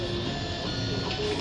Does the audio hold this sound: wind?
no